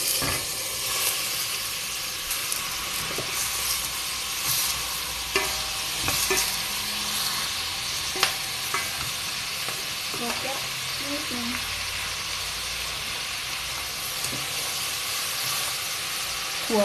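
Beans sizzle steadily with butter in a hot pan while a spatula scrapes and stirs, a constant hissing fry close by.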